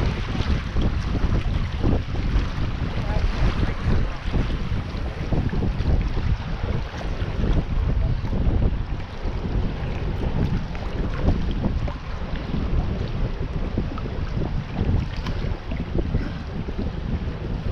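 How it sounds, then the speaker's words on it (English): River rapids on the Flathead River rush around a tube float, a loud, steady churning roar of water mixed with wind noise on the microphone, with no speech throughout. "That's about the end of these rapids."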